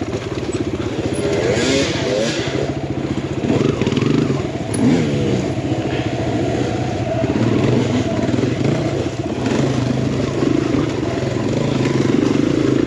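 Enduro dirt bikes, among them an old 2004 KTM 450 four-stroke, churn through a tight, rough trail, engines droning loudly and steadily with rising and falling revs and some clatter, close up throughout.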